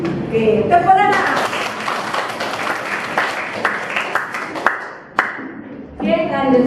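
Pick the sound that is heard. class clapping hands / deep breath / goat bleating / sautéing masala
class clapping hands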